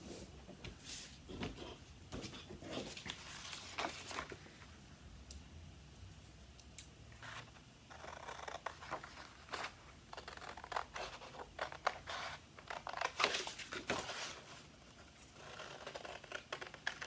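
Scissors snip through a manila folder to cut out a gingerbread house side template, giving soft, close crunching cuts and paper scratching at an irregular pace, fairly quiet and with no talk.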